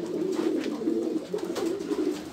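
Pigeons coo steadily and close by, a continuous rolling murmur of overlapping calls at a moderate level with no talk.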